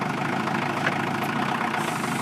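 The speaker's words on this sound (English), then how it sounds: "So I'll have to just start the engine to do that again." A tractor engine driving an AGT rear-mount forklift mast idles steadily and loudly close by, a continuous rumbling drone with no talking over it.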